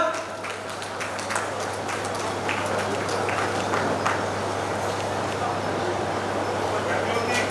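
An audience claps at the Begum Bazar fish merchants association's golden jubilee celebration to welcome Narsingh Singh. The applause is busy and continuous over a low electrical hum, with voices mixed in.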